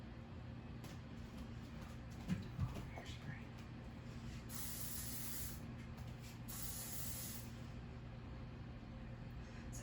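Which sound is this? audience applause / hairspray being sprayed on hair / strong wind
hairspray being sprayed on hair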